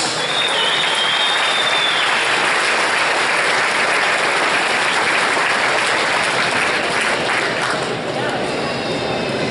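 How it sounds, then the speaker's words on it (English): Sustained audience applause at a 2014 BC Lacrosse Midget Championships recognition ceremony for young players, loud, dense clapping filling the hall throughout, with a brief whistle-like tone early on. "one more round of applause for these fine young men"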